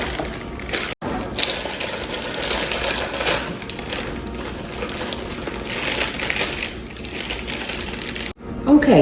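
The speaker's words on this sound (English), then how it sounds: "So you just want to get in here, get your can opened up." A can opener works around a can of pumpkin pie filling, making a continuous close grinding and ratcheting clatter, with brief pauses and a sharp clink at the end.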